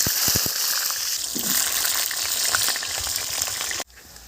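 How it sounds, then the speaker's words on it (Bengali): Potatoes and Malabar spinach stems fry in hot oil in a kadai, a loud steady sizzle with a few sharp stirring knocks at the start, ending abruptly. "আলু আর পুঁই শাক ভেজে নেব"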